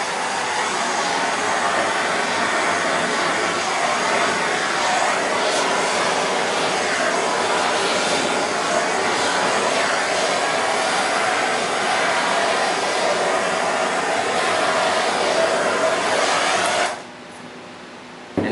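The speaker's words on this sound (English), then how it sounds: "So you just take your torch, and you want to kind of heat it up pretty good, but don't overheat it." A handheld torch blasting heat over poured epoxy resin during ocean-wave resin art, a loud steady roaring hiss that runs unbroken for most of the clip before cutting off abruptly near the end, no talking.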